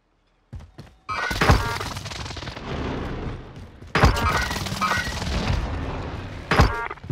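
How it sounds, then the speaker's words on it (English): Airstrike explosions in Call of Duty Warzone: booming impacts land in two heavy waves, each with a sharp crack followed by sustained rumbling debris, and a final thump near the end. "Here's the target for airstrike."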